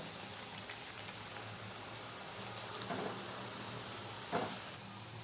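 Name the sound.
semolina biscuits deep frying in oil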